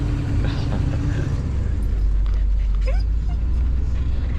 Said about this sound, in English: Bella's whining.